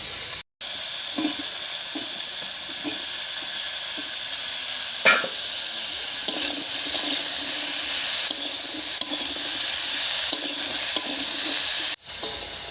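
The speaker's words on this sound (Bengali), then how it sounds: "একটু ঢাকা দিয়ে দিয়ে একটু ভাজা ভাজা মতো করে নেব" Cauliflower, potato, flat beans and carrot fry in a pan with salt and turmeric, giving a steady, close sizzle with occasional stirring scrapes throughout and a brief break near the start.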